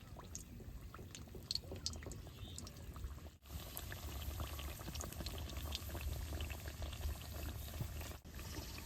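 Gaja pastry pieces go into oil that is not yet fully hot and bubble steadily, a soft, even frying fizz with a faint low rumble and no talking.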